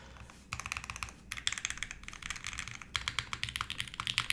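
Quick, uneven keystrokes clatter on a custom mechanical keyboard fitted with O-rings, close up with short pauses between bursts of typing and no speech.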